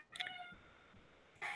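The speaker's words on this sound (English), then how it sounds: "Meow, meow, meow. Meow." A ginger cat gives a few short, clear meows close by, with a faint pause between calls and another meow at the end.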